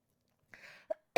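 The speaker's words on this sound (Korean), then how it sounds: "우리 무편집인데 자꾸 기침이 나서" A woman giving an indoor book talk coughs several times in quick succession, close and fairly loud, in short breathy bursts after a brief silence.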